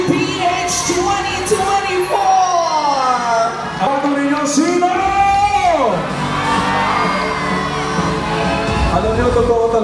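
A pageant audience at the Miss International Queen Philippines 2024 coronation at Aliw Theater cheers and whoops loudly and steadily, with a host talking over the crowd throughout.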